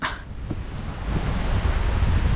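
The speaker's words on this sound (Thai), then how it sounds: "ลม ลมแห้ง" Dry wind blowing through forest during a bee-hunting and fishing trip in the woods, a steady rushing gust buffeting the microphone with a low rumble that strengthens toward the end, no talk over it.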